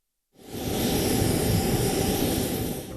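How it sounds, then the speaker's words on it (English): An Embraer E195-E2 jet aircraft roars in after a moment of silence, a steady, fairly distant broadband engine rush that holds evenly to the end. "The aircraft boasting its fuel efficiency and noise reduction compared to other jet aircrafts"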